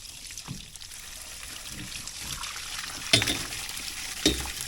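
Water pours and splashes from a farm pump in an open field, a soft steady trickle with a few sharper splashes, faint and close.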